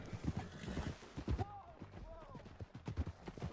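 Rhythmic clip-clop of horse hooves in the video game Red Dead Redemption 2 under someone talking, with a brief whinny partway through.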